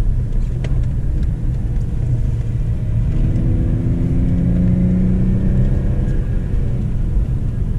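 A BMW 320Ci driving with a steady, loud engine rumble and road noise throughout, the engine tone rising slightly midway as it accelerates.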